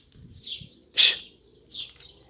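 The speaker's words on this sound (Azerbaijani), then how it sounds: "lal ördək balalarını buraxmışdım" Muscovy ducklings chirp in short, high peeps, three or four separate calls spaced over a couple of seconds, one louder and closer than the rest, against a quiet outdoor background.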